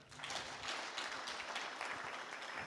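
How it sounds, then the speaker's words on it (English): Audience applause at the opening of a national tuberculosis and leprosy stakeholders conference, steady dense clapping filling the hall, fairly faint and distant, with no talk over it. "Another very big clap."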